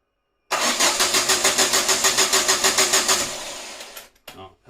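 A Ford Escort XR2 turbo engine, its carburettors freshly overhauled, cranks with a steady rapid rhythm for about three seconds, then catches and settles briefly before dying away, loud and close with no talk.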